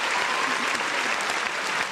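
A crowd applauds steadily for a couple of seconds, a dense wash of clapping heard up close with no pauses.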